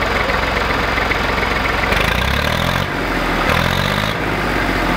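A 2002 Massey Ferguson 240 tractor engine is revved repeatedly at close range, its loud diesel rumble swelling and dropping in several short bursts with no speech.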